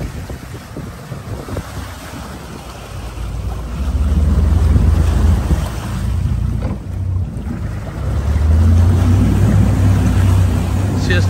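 A center-mounted twin-engine boat rumbles low and steady on open water while pivoting sideways by joystick, swelling louder midway, with wind buffeting the microphone and waves washing around it.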